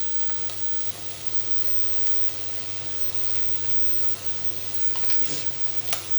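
Garlic and tomato paste fry in a pan with a steady, even sizzle that runs the whole time, with a few faint scrapes near the end and no talking.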